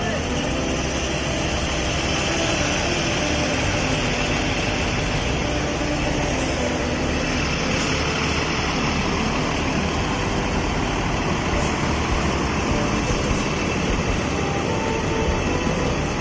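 An ANS Luxury Class coach bus pulls in, a loud continuous engine rumble and road roar filling the scene with a steady, unbroken drone.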